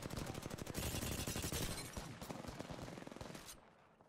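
Automatic gunfire in the battle royale game Apex Legends rattles in dense, rapid bursts, loud and continuous for about three seconds before tapering to a few scattered shots, with no talk.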